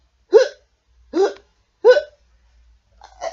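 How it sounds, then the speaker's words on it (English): A child hiccups four times at an even, roughly one-second pace, each sharp and close, with silence between and the last one slightly softer. "Every time Ben hiccuped, it made Arthur jump and feel just a little nervous."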